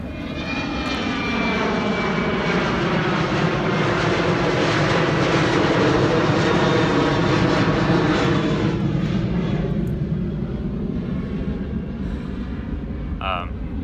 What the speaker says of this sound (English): We'll let this airplane pass.